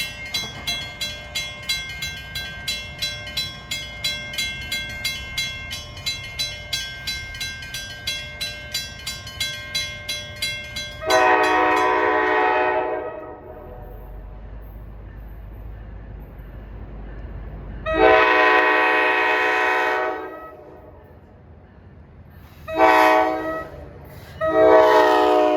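NJ Transit train hauled by an ALP45DP locomotive, rolling past with rhythmic clacking before a loud K5LA horn blasts several times, one long call followed by shorter ones, near and strong.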